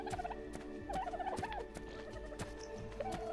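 Dodo bird calls in the video game ARK: Ragnarok, a series of gobbling, warbling squawks repeating over about three seconds, fairly close and alone against a soft game background with scattered clicks.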